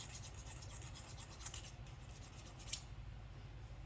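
Hand filing on the raised edges of a copper blank: a steady, close scraping rasp with fine strokes and a couple of sharper catches, no voices.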